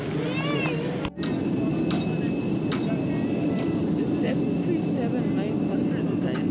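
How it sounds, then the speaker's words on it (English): Inside the cabin of a Boeing 737-900, a loud, steady engine and air roar fills the space with a faint high whine above it, a brief clunk near the start, and muffled voices in the background. "737-900 is an interesting aircraft regarding sound effects"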